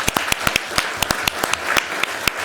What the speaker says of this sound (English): let's give them a huge round of applause for what they've done.